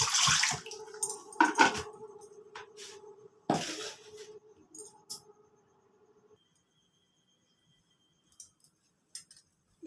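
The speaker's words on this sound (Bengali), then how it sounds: "প্রথমে কড়াতে জল দিয়ে দিলাম।" Water poured into a wok for puffed-rice balls splashes loudly for the first few seconds, then thins to a trickle and a few faint clinks before near silence.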